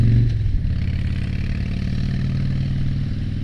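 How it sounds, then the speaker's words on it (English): A motorcycle engine running steadily at close range on a mountain road, a continuous low rumble with a slight change in pitch as the rider downshifts for a sharp corner. "we're gonna downshift for this one"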